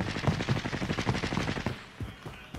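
MAC-10 submachine gun fire in a video game: a rapid, close burst of about a dozen shots, followed by a few scattered single pops.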